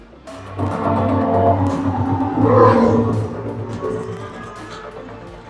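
A Formula 1 movie soundtrack playing loud in a large Dolby cinema hall, a swelling roar of racing car engines rising and falling over a low rumble.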